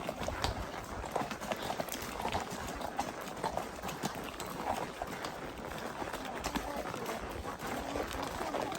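A horse named Tornado walks a mountain trail in the Ozarks, hooves clip-clopping in a steady uneven rhythm, fairly faint and close, amid continuous rustling and trail noise.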